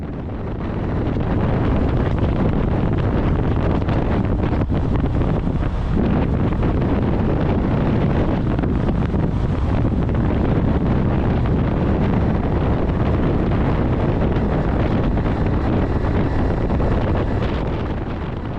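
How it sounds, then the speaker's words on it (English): Heavy wind buffets the microphone while riding a motorbike along a mountain road, a loud, constant roaring rush that fills the whole stretch with no voices heard. "It's getting windy again."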